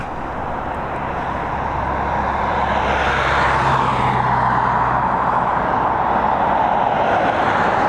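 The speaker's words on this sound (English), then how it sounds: "this Boeing 737 MAX now in the final stages of descent" A Ryanair Boeing 737 MAX on final descent into Dublin Airport roars overhead, a loud, steady broadband jet rumble that swells and holds with a faint shifting whine as it passes.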